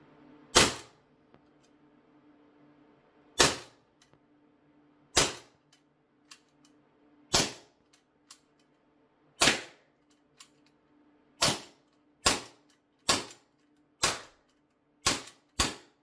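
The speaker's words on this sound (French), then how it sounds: "on vient rabattre la culasse et on va tirer sur la cible" A Glock 19X CO2 airsoft pistol firing 6mm pellets at 1.6 joules at a target: about a dozen sharp, loud, close cracks, spaced a second or two apart at first and then coming faster, with near silence between shots.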